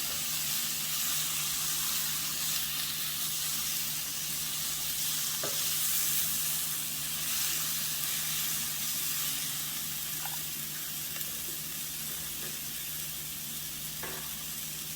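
Zucchini noodles cooking in a pan with basil give a steady, even sizzle and hiss throughout, with a few faint clicks of stirring, close up and with no voices.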